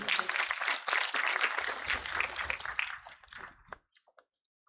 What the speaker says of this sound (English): let's give another round of applause for those winners